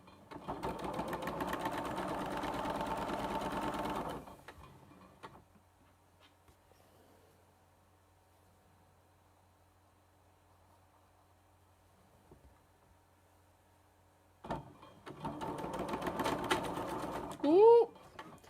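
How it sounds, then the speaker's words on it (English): A home sewing machine used for quilting runs in a steady buzzing burst, stops into a long near-silent pause, then starts again with a brief squeal as it stops. "your sewing machine's going to have a moment"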